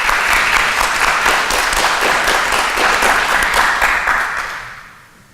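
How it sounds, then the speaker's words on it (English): Loud, steady applause from a lecture audience fills the room with dense clapping and then fades away over the last second. "I think they all deserve a round of applause"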